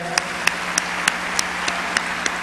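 Audience in a concert hall claps sparsely, a handful of distinct, evenly spaced claps over a continuous murmur rather than full ovation, moderately close.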